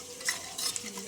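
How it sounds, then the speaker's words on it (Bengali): Turmeric being stirred into water in a small spice bowl, a quiet soft swirl with a few light clinks of spoon against the bowl, faint and brief. "হলুদটা গুলে নিলাম।"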